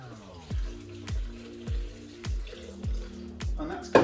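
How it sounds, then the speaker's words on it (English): Water is poured in glugs onto blended cashew nuts and watercress, a quiet, regular series of about seven gurgling pulses, each dropping in pitch, ending with a brief splash. "then we're going to add some water to this."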